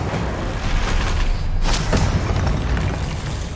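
A Confringo blasting spell detonates in Hogwarts Legacy, a loud booming burst with a sharp crack around midway over dense, continuous low rumble and game effects.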